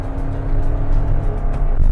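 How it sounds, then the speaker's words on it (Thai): A modified, computer-tuned passenger van accelerates hard to overtake, its engine droning loud and close with a steady, rising roar and no speech. "นี่ครับดูเร่งส่งเร่งแซง นี่รถตู้คอมพิวเตอร์นะครับ"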